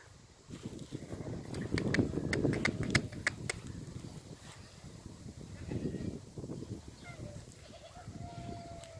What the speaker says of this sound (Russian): козы